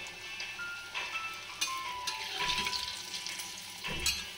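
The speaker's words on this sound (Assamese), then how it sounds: "কেৰাহীত তেল গৰম হৈছে এটা এটাকৈ এনেদৰে দিম আৰু ভাজি গৈ থাকিম" Jute leaves, apparently coated in rice flour batter, fry in hot oil in a wok, a moderate bubbling sizzle with bursts of crackle and occasional clinks, no voices.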